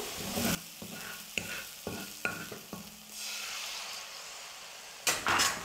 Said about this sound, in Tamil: மசாலெல்லாம் சேர்த்து ஒரு நிமிஷம் நல்லா வதக்குனதுக்கு அப்புறமா முட்டை சேர்த்துக்க போகிறேன்.